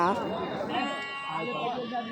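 Goats bleating at the Kadiri weekly livestock market, a drawn-out wavering bleat heard close and loud amid crowd noise and nearby talking.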